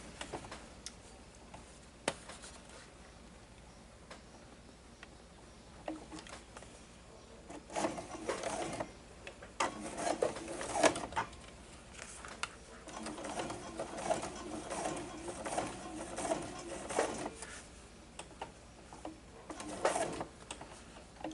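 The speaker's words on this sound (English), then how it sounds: "we're going to sew all the way round until we get to the mark here" A sewing machine stitching all the way around a fabric glasses case, quiet at first, then running in bursts of rapid mechanical ticking and whirring with short pauses between runs, close but fairly soft.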